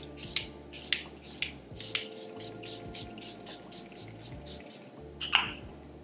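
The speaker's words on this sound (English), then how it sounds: "we're going to take the Charlotte Tilbury Airbrush Flawless Setting Spray" Charlotte Tilbury Airbrush Flawless Setting Spray is pumped onto a face in a quick series of about a dozen short, sharp misting bursts, close and crisp, followed by one more spritz after a brief gap.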